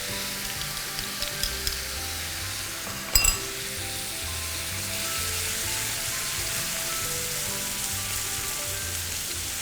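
Chili paste for shrimp nam prik pao stir-fried in a pan with palm sugar, fish sauce and tamarind water, sizzling steadily with a few scraping stirs and one sharp clatter.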